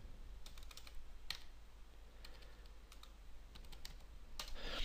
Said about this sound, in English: Fucking keyboard.